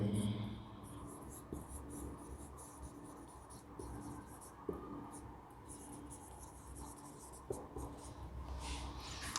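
Pen writing notes during a Class 12 biology lesson on human health and disease, a soft continuous scratching with a few light taps, faint and close in a quiet room with low background hum.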